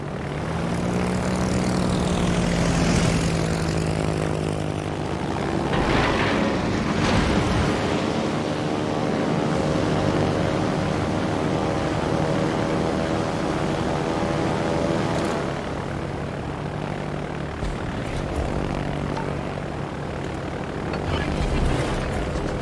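In a combat flight video game, a fighter aircraft's propeller engine drones loudly and steadily throughout, with a continuous rushing roar and voices talking over it.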